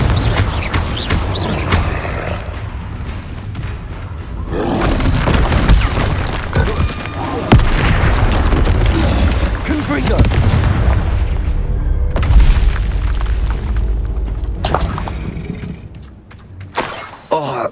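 Explosions from the Confringo spell in Hogwarts Legacy, repeated booming blasts with shattering debris and magical whooshes, loud and dense, with a voice shouting over the action.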